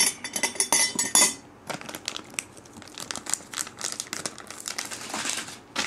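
Aichi-grown kinako soybean flour is scooped by the tablespoon: a packet crinkles and rustles near at hand, with light spoon and dish clinks in a busy, irregular run.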